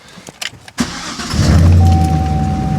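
Cadillac CTS-V with a modified exhaust starting up: a few clicks and cranking noises, then the engine catches and settles into a deep, loud, steady rumble up close.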